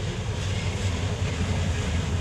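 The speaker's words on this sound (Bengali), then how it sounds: "ট্রেনের কারণে হয়তো কথাগুলো বোঝা যাবে না" A large train passes close by as a continuous, heavy, low rumble that holds steady through the short stretch, with no speech over it.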